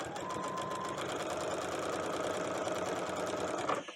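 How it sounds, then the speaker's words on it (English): A sewing machine with a walking foot runs steadily at speed, stitching along a fabric edge in a rapid, even needle clatter for a few seconds before stopping. "now I'm going to sew the edge again."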